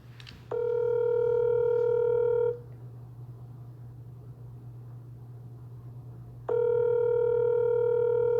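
Telephone line tone sounds as two steady, loud, pure hums, each about two seconds long, separated by a quiet gap over a low constant background buzz.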